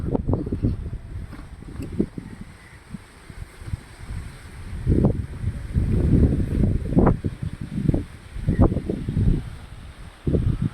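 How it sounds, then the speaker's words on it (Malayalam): Strong gusts blow across an open rock outcrop beside a cave temple in Kaviyoor, rumbling low against the microphone in uneven bursts that rise and fall, with rustling in between and no speech. "നല്ല കാറ്റടിക്കുന്നുണ്ട് ഇവിടെ"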